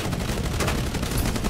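Dense, continuous gunfire fills a naval battle in the post-apocalyptic water-world game Age of Water, with rapid overlapping shots that sound loud and close, and no talking.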